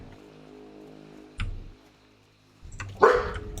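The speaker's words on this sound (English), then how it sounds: "Hey, don't start barking." A dog barks nearby indoors, two short bursts separated by a pause, with a quieter yip between them and faint background noise.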